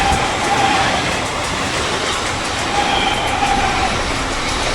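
A Mumbai suburban local train running between Thane and Mulund, heard from inside as a steady, loud rolling rumble and rattle of the carriages with faint wheel squeals, no talk.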